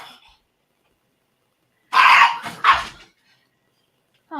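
A pet dog lets out a short protesting burst of barks and grumbling yips, close and fairly loud, framed by silence before and after.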